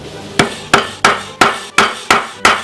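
A hammer crushes white pepper wrapped in cheesecloth on a kitchen counter: seven loud, evenly spaced thuds, close and punchy, each with a short decay.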